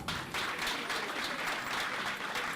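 An audience at a live show breaks into steady, dense applause, many hands clapping at once in a continuous wash that holds at an even level throughout.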